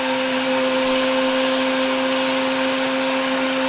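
A handheld rotary grinding tool spins freely with a steady high whine and a bright hiss, close and constant, with no talk over it.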